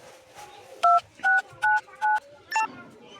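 Five short, evenly spaced telephone keypad tones ring out loud and close as a phone number is dialed, each dual-tone beep separated by a brief pause over a quiet background.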